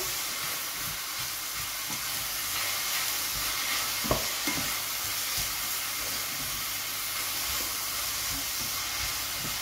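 Liquid, about a tablespoon like vinegar, hitting a hot pan of Chinese noodles with shrimp and searing, giving a steady broad sizzling hiss with faint stirring clicks and taps throughout.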